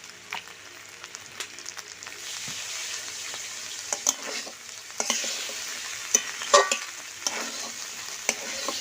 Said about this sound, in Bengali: হালকা একটু সরষের তেল চারদিক দিয়ে ঘুরে দেব।